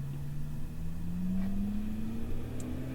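A sports car on a winding mountain road drives past, its engine note climbing steadily as it accelerates, moderately loud and a little distant.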